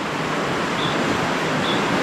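The Malico river rushes below a roadside in the Philippine countryside, producing a loud, steady broadband wash of flowing water with no pauses.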